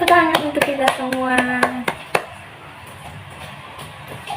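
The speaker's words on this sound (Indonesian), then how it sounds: "tepuk tangan untuk kita semua" A primary classroom of third-grade children clapping together in a quick, loud patterned rhythm of sharp claps with voices over it, then the claps thin out to a few scattered ones under quieter chatter.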